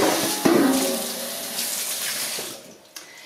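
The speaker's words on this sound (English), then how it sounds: "whenever you rinse your pan or your bucket out, do it first with cold water." Cold tap water runs steadily into a metal milk bucket being rinsed, a continuous broadband splashing rush with a few brief clunks, fairly close and alone.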